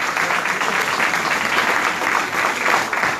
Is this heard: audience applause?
yes